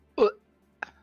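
A polar bear creature in the online game Final Fantasy XIV lets out a short, throaty burp, followed after a pause by a second, briefer grunt; both sound close and fairly loud against otherwise quiet background.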